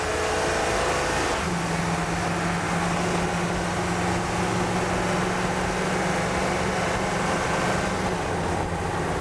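The engine of an AM General M1097A2 Humvee with a four-speed transmission, heard at full throttle from inside the cab, gives a loud, steady roar with a sustained low drone and heavy road and wind noise filling the whole stretch.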